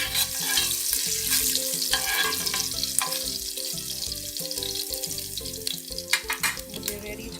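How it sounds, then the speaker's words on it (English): Lamb frying with spices in oil, stirred in a pot, a steady broad sizzle under repeated scraping and clattering strokes from the spoon, close and loud throughout. "I'm going to give this a stir."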